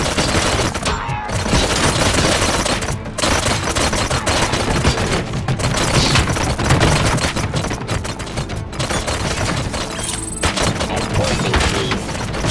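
Sustained heavy gunfire in the RoboCop: Rogue City video game, dense overlapping bursts and automatic fire with crashing impacts and booms, loud and continuous throughout with no clear pauses.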